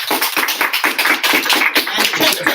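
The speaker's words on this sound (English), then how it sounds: "let's give all the panelists a final applause." Audience applauding panelists at the close of an academic digital history seminar, a steady, dense patter of many hands clapping nearby, continuous for a couple of seconds with no talk.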